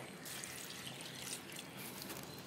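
Water pours steadily from a tumbler into a pot of soaked basmati rice while making paneer matar pulao, a soft continuous splashing trickle heard close up with no talking.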